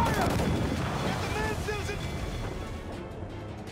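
Ship cannons firing in the video game Assassin's Creed Freedom Cry, a sustained loud booming roar with rumbling low end that slowly fades, with shouted game voices over it.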